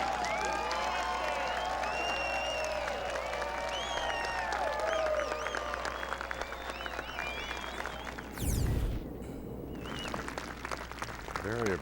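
A golf gallery in Hawaii applauds Tom Watson's well-judged short-iron approach on the 18th hole, sustained clapping from a large crowd with scattered chirping birds over steady background noise, ending with a brief loud thump near the end.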